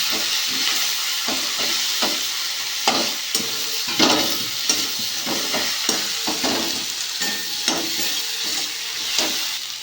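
Masala cooks down with a little water in a pan, giving a loud continuous sizzle. Rhythmic scraping strokes of a spoon stirring the mixture run throughout, up close and with no voices.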